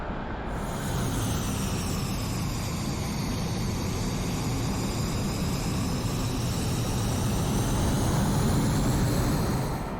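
Dassault Mirage 2000 jet engine taxiing in the DCS flight simulator, a loud, steady whine and roar with rising and falling tonal harmonics that hold throughout, alone without talk.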